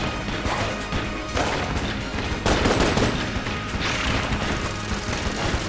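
The Lich, the final boss of Enter the Gungeon, fires volleys of bullets in a dense, loud barrage of crashing, crackling gunfire bursts layered over constant game noise, with heavy impacts spaced every second or two.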